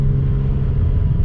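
A Nissan Skyline R33 engine revs steadily and loudly up close, its deep mid-range growl and low rumble holding level throughout with no voices over it.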